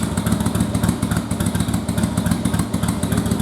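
A first-generation Yamaha Virago V-twin motorcycle engine running steadily after starting, a loud, close, even mechanical chug with a rapid pulsing rhythm and no voices.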